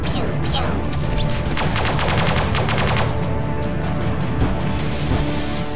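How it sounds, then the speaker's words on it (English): Pulse lasers fire in a rapid volley in the space strategy game Sunrider, a loud dense burst of repeated shots over constant background game music and effects. "Okay, pulse lasers. Fire. Pew, pew, pew."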